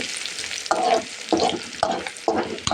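Bay leaves, onion and garlic frying in hot oil as a tempering for lentil dal with bottle gourd, a loud, close sizzle broken by regular scraping stirs roughly every half second.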